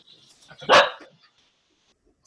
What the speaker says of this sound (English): one more participant who's barking in the background.